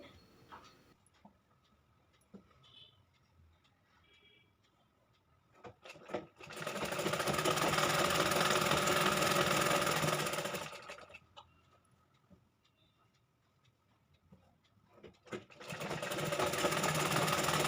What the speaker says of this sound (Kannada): ಈ ರೀತಿ ನಿಧಾನಕ್ಕೆ ನಾವು ಸ್ಟಿಚ್ ಹಾಕಬೇಕಾಗತ್ತೆ